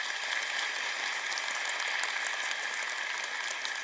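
An audience in a school hall claps together, a dense, even wash of applause that holds steady from start to finish with no talking over it.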